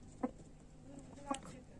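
Two short, quiet clucks from white chickens about a second apart, against faint background noise.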